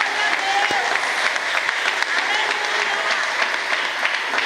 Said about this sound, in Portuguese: a igreja aplaude a Jesus por isso